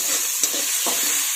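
Ginger garlic paste sizzles steadily in a hot pan for a village-style dry cluster bean dish, with a couple of brief scraping stirs rising over the constant frying hiss.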